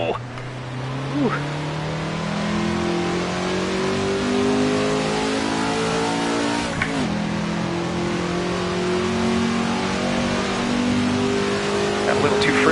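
A 1966 Ford GT40 racing car at Monza in the video game Assetto Corsa revs hard through the gears, its engine pitch climbing steadily with brief dips at shifts, loud and close throughout.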